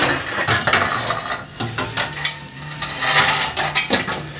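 A ratchet wrench works on bolts while the downpipe is removed from a Mitsubishi Evo X, with bursts of quick, close clicking ratchet strokes and some metallic clatter, loud and without talking.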